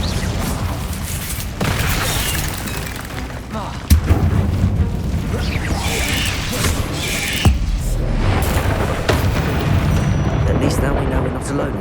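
An Incendio fire spell cast in the Hogwarts Legacy video game, a heavy booming blast with rumbling, crackling bursts amid other loud combat effects, under a spoken incantation.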